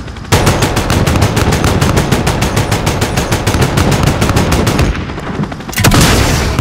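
Air-support gunfire from Modern Warfare 2019 rains down on troops on an airbase tarmac as a loud, rapid, evenly spaced stream of heavy rounds. After a brief pause, a single sharp burst follows.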